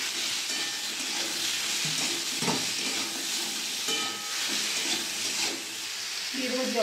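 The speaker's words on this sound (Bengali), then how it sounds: "ভালো করে নেড়ে নেব।" Turmeric powder, cumin powder and salt being stirred in a hot frying pan for a hilsa fish curry give a steady oily sizzle, with a spoon scraping and clacking against the pan.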